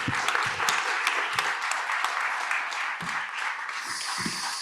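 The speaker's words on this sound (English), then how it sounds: "give a round of applause for Kathy, Traci, and Bill" An audience at an affordable housing finance panel applauds the panelists with brisk, dense clapping at moderate loudness. Low murmurs and thumps break through now and then, and the clapping thins slightly toward the end.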